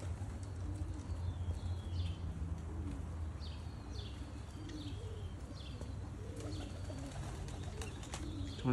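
Young racing pigeons coo in a loft, soft repeated low calls from several birds close by against a steady background hum, with no talking.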